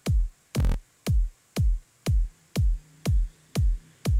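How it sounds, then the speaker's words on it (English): Kick drum sample looping in FL Studio Mobile on a phone, eight punchy low thumps at an even steady beat, clear and alone with no talking. "Now we have our kick there."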